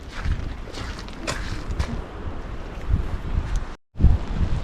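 Strong wind gusting across a Tasmanian cliff coast, a steady loud roar buffeting the microphone with a brief dropout near the end.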